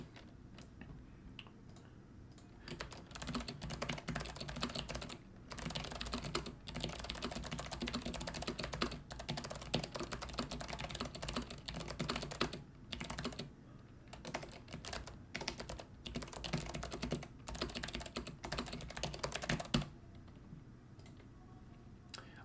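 Someone types on a computer keyboard, producing a quick, steady stream of close, crisp key clicks with short pauses, lasting about twenty seconds with no talking.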